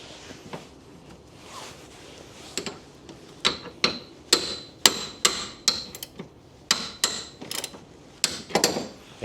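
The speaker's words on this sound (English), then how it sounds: "grab yourself a hammer" A hammer strikes a metal wrench bar during valve cover work on a 2002 Toyota MR2 Spyder, sharp clanking hits that start sparse, then come faster and louder in an irregular run.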